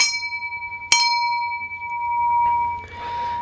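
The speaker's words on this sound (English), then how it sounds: "It's more of a bell shape and a bell sound." A sharp metallic strike on a footed, bell-shaped brass mortar rings out like a bell, its clear tone sustaining and slowly fading, with faint handling noise afterward.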